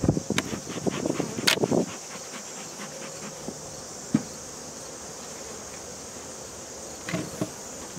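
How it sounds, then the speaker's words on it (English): Honey bees swarm around an open hive during an autumn inspection of a split, a steady high buzz running throughout with a few louder bursts and handling knocks near the start. "You can see there's a bunch of bees up here."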